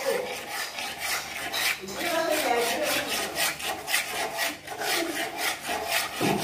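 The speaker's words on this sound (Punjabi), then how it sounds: "ਐਵੇਂ ਭੁੰਨਣਾ ਆਪਾਂ ਨੇ ਮੈਦਾ।" Maida flour being stirred and roasted in a pan for Punjabi-style burfi, a continuous dry scraping and rubbing of a spoon against the pan in rhythmic strokes, close and moderately loud.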